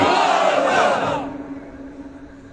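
A large crowd roars a takbir chant in unison at a Bangla religious sermon gathering, a loud massed shout that swells for about a second and then fades into hall reverberation and murmur.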